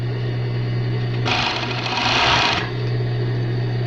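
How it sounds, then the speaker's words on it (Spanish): Overlock sewing machine with adjusted loopers stitching fabric in one steady mechanical run of about a second and a half, close and loud over a constant motor hum. "Ya está tramando y cosiendo la aguja."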